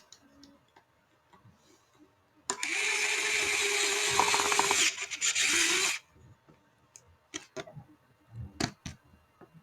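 A Craftsman battery-operated power ratchet runs in one steady whirring, buzzing burst of about three and a half seconds, close and loud, with scattered clicks and handling knocks before and after.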